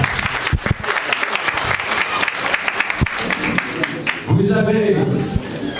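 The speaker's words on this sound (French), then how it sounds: "On va applaudir M. Franck Ouzougou ce soir." Applause from an audience greeting a guest introduced at a ceremony installing the new president of the Guinean community in Port-Gentil, a steady crowd clapping that runs throughout, with a voice speaking over it and a brief tonal sound near the end.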